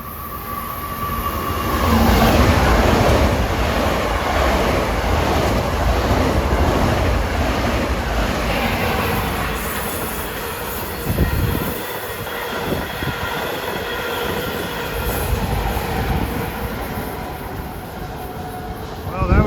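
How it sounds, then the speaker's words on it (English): A Long Island Rail Road dual-mode train rolls through Forest Hills station during the morning rush, a loud sustained rumble and clatter of wheels over rail joints that stays close throughout, with rhythmic thumps as cars pass. "Train 619, the last dual mode we'll see from Port Jefferson to Penn Station"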